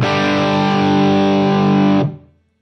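An electric guitar through a Line 6 Helix Wall of Marshalls patch with the gain pushed higher rings out one loud, saturated distorted chord that holds for about two seconds, then cuts off quickly into silence.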